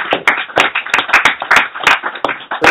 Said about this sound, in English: Let me give you all a round of applause.